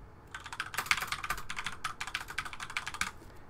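Computer keyboard typing: a quick, steady run of crisp key clicks, close and fairly soft, continuous for a few seconds with no talk.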